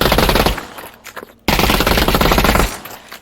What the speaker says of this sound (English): let's look what happens when we fire a burst